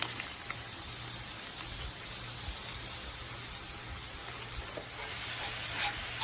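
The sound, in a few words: sausage browning and sizzling in a pan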